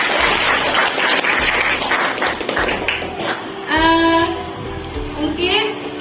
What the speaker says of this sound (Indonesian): Kita beri aplaus untuk Alifah